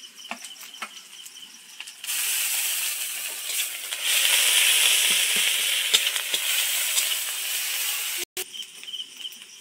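Garlic paste frying in a pan for a Bengali fish curry in a Sundarban village kitchen, a loud sizzle that swells after a quieter start, with spoon scrapes and clicks and a brief cutoff near the end.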